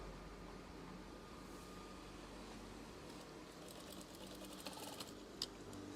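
A sewing machine stitches a folded 40 cm section of a swag curtain, running as a steady, fairly quiet mechanical hum with faint ticking and a few sharper clicks near the end, no voices.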